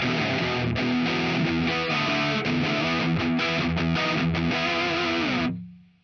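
A high-gain electric guitar through a Plethora X5 plays a quick, heavily distorted lick, loud and dense, its last note ringing before it fades out quickly.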